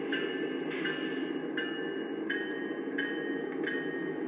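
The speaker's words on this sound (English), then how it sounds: "Let's go ahead and listen to the bells." Lionel ES44 NKP 8100 model locomotive bell, tone number 2: a bright electronic ding repeating about every 0.75 seconds over a steady hum, close and clear with no talk.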